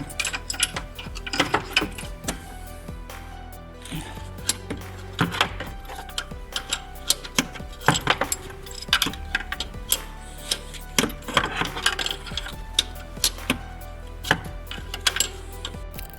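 Metallic ratcheting clicks and clanks from a wrench undoing a bolt in the cramped engine bay of a Peugeot 207 during a battery replacement, irregular bursts of close taps and scrapes with no talk.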